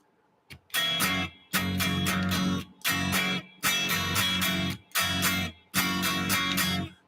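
Acoustic guitar strumming from a song exercise, playing six bursts of strummed chords in a syncopated pattern with short gaps between them, clear and close with no voice over it.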